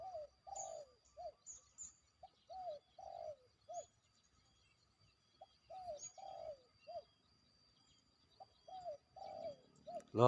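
A spotted dove coos repeatedly in short rhythmic phrases, clear and fairly close against a quiet background, with faint higher chirps from other birds scattered between the calls.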